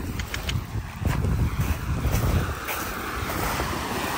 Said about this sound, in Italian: Sono onde, eh!